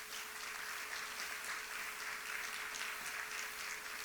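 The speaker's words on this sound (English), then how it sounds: "give yourselves a round of applause" An audience at a summer employment event stands and gives itself a round of applause: a steady, dense wash of clapping that holds evenly throughout, fairly soft and diffuse, with no voices on top.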